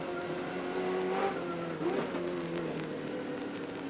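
Group A and V8 touring cars race at Amaroo Park in the 1993 AMSCAR series. Their engines give a sustained, rising and falling drone with gear-shift dips, heard at a moderate distance and quite faint, with no voices.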